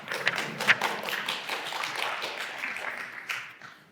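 Light clapping from a small audience at a poetry reading, a few sharp claps at first settling into a soft, thin patter that fades out toward the end.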